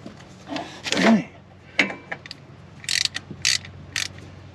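A hand tool clicks and ratchets while backing a screw out of a 2024 Yamaha Wolverine X2 1000 side-by-side, with close mechanical clacks, a scrape, then a run of sharp ratcheting ticks, no talk.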